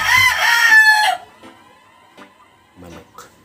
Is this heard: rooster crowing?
yes